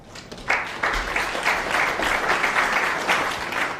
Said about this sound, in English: The applause recognising that red with O'Sullivan at the snooker's required stage.